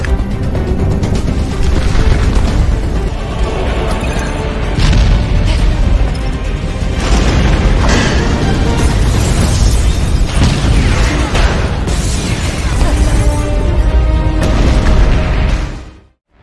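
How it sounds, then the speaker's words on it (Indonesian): Big explosion in an action film scene, heavy booming blasts and crashing debris rolling loud and continuous with repeated surges before fading out at the end. "Namun kembali, ledakan besar terjadi dan membuat dirinya hampir terjatuh"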